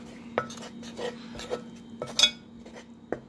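Saltfish fritter ingredients being stirred and rubbed together in a bowl, a series of light scraping, clinking strokes at an uneven rhythm, close and fairly quiet.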